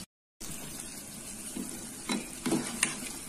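A pot of home-cooked star fruit (belimbing sayur) dish bubbling and simmering, a soft continuous close bubbling with a few brief louder splashes or stirs, no talking.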